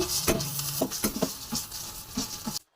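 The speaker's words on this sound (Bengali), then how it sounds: "এবার তেলের মধ্যে পেঁয়াজ কুচি করে একটু ফ্রাই করছি" Chopped onions fry in hot oil in a pan, giving a soft sizzle broken by irregular stirring scrapes and patters before cutting off abruptly.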